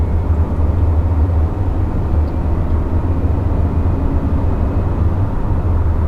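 A 2021 Subaru Crosstrek Sport accelerating at partial throttle from about 55 mph, heard from inside the cabin as a loud, steady low engine drone and road roar, with no voices.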